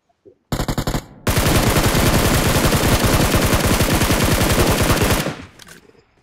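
A loud, sustained burst of automatic rifle fire in the BGMI battle royale game, preceded by a short stuttering volley, rapid evenly spaced shots close up before cutting off.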